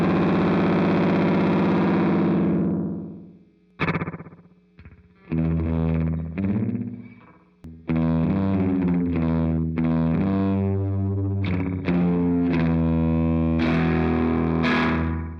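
Electric guitar played through a delay pedal with heavily saturated, distorted gain, ringing out sustained chords and short phrases whose repeats trail and smear into each other.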